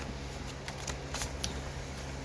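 A deck of cards is shuffled and split, giving a few faint, soft riffles and taps over a steady background hiss.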